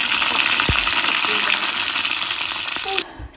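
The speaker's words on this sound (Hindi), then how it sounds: "और ये गरम हो गया है तेल, तो लहसुन और हींग डालकर तड़का लगा देंगे।" Garlic and asafoetida sizzle in hot oil for a tempering, a loud dense crackling hiss close by with a couple of faint clinks, cut short near the end.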